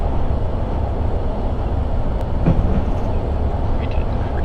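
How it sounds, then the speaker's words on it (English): A Class 156 diesel train runs on the Windermere Shuttle route in Train Simulator 2018, giving a steady loud low rumble of engine and wheels that continues without a break. "I'm going to increase the train throttle as it has gone up to 60."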